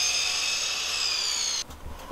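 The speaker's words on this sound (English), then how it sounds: "Look at him just sawing away out there." A high whining power saw cuts through wood steadily while trimming around the floor and wheel well of a converted school bus, then stops suddenly, leaving a few faint knocks.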